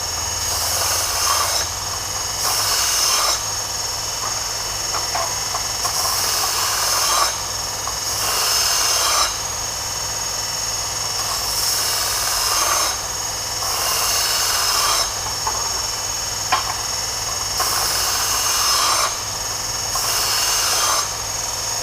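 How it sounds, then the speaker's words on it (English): Belt sander grinding the burr off a cut steel jack post: a continuous loud whirring motor with a pulsing scraping that swells and eases in regular passes as the metal is pressed to the belt, with no talk. "So what I do is just take it off on the belt sander."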